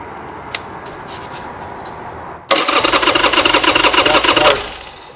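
A wrecked Harley-Davidson motorcycle, brought back from a total loss, catches and fires up with a loud, rough engine roar that runs for about two seconds and then cuts off, after a quiet stretch with a few faint clicks.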